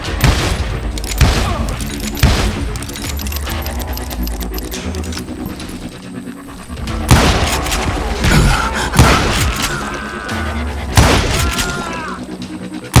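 Gunshots ring out in sharp, loud bursts during a western shootout in Call of Juarez Gunslinger, spaced irregularly over game music and ambience, with a narrating voice speaking between shots.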